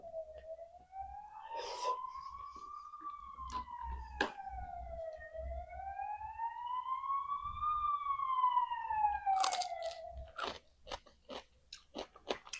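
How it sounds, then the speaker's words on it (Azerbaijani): A police car siren wails in a slow rising and falling tone from outside, heard over close, crisp crunching and chewing of food with occasional sharp bites. "Polis maşını idi, eşitdiniz?"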